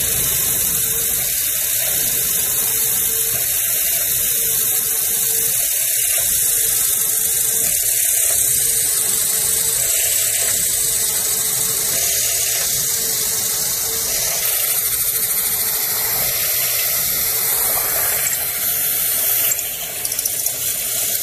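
Peck drilling through half-inch mild steel with a drill press, a continuous loud whirring grind broken by regular short dips as the bit backs out and re-enters, over steady background machine noise.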